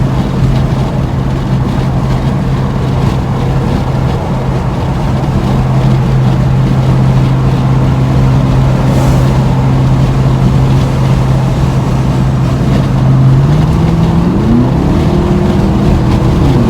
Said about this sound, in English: So the wind's blowing, so you probably hear the wind as well